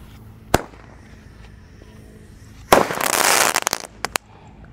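Golden Roman candle fireworks being lit outdoors: one sharp pop, then a loud, dense burst of crackling for about a second, followed by a few scattered bangs, with no voices.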